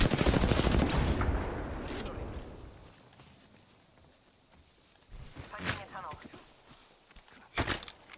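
Gunfire in a shooter video game with a Kraber sniper rifle: a loud, dense burst of shots at the start, then quieter stretches broken by a few sharp, isolated shots later.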